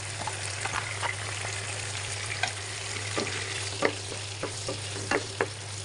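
Ginger garlic paste, cinnamon and bay leaf sauté in a pan for a Chinese vegetable dish: a quiet, even sizzle with scattered sharp clicks and taps from stirring over a low steady hum.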